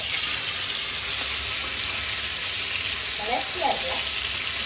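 Fish sizzles steadily as it fries in a pan of hot oil for a home-style fish curry, a continuous hiss with a couple of brief scraping stirs near the end and no talk.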